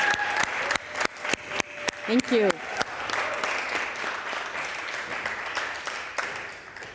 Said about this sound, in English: I want to ask for a warm applause from the audience to these wonderful practitioners